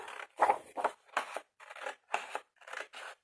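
Scissors make about eight crisp snips in a steady rhythm, close and clear with short silences between cuts, no talking.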